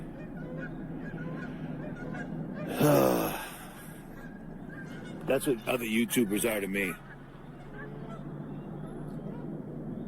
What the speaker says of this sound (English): Quacking Canadian geese.